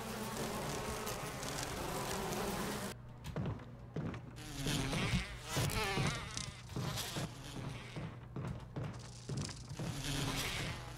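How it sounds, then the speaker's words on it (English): Dense, continuous buzzing of a swarm of bees around a giant beehive inside the mansion in Resident Evil HD Remaster, a droning insect hum that swells and wavers steadily for several seconds with no voices over it. "Fucking armies of bees doing their bee stuff"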